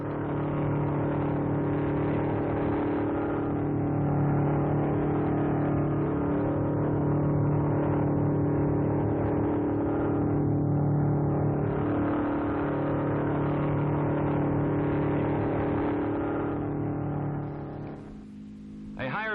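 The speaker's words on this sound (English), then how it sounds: "The car is running like a fine watch" A 1956 MG record car runs steadily at speed trials, its engine drone loud and continuous for most of the stretch before fading out near the end.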